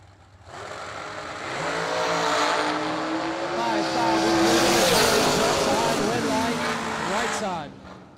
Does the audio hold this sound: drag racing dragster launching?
yes